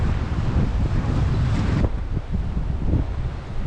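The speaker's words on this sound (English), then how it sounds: "the wind is pumping from there" Strong sea wind gusts against a cliff by a tropical coast, a loud and steady roar that buffets the microphone, with waves faintly audible underneath and no talking.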